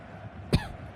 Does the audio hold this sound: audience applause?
no